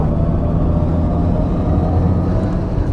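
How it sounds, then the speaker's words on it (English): A Mercedes-AMG EQS 53 electric car accelerates in Sport Plus mode with its synthetic drive sound, a loud, steady low hum and rumble held continuously from start to finish, with no talking. "So I'm going to turn this dial, put it in Sports Plus mode, so we get the silly noise."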